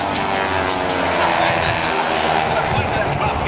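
Aerobatic propeller airplanes of the Titan Aerobatic Team fly at the Ocean City, NJ airshow, their engines giving a loud, steady drone throughout while a commentator talks over it.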